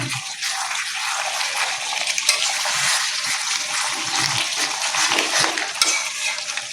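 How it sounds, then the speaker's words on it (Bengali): Chicken cooking in a wok (kadai), a continuous loud hiss of frying with scattered scrapes and clinks of stirring, heard close up without talk. "চিকেন রান্না হচ্ছে চিকেন"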